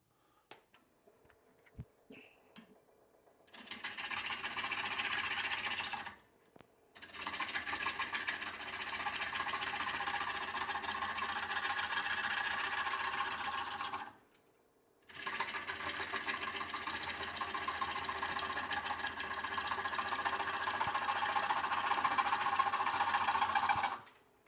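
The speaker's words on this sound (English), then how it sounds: "I feel like this is the part of wood turning that gets people hooked" Wood lathe rough turning a bowl blank with a gouge, throwing big curly shavings: a steady, dense cutting roar in three long sustained passes separated by brief pauses, loud and close with no talking.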